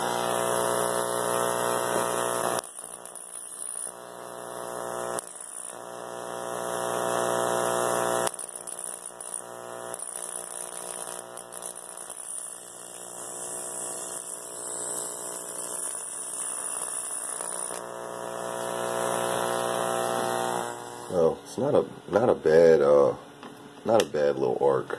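A Steve Ward mini solid-state Tesla coil runs with a loud, steady buzzing hum full of harmonics, switching on and off in bursts, and ends with warbling, crackling arcs; someone talks over it.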